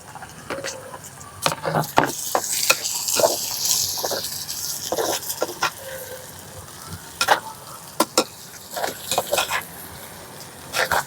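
Tomatoes hit a hot frying pan and sizzle, with stirring and scraping clatter in close, irregular bursts over a steady hiss, no talk.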